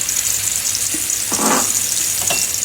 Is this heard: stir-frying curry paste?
yes